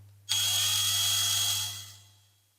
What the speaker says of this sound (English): Right, so I've got a small drill.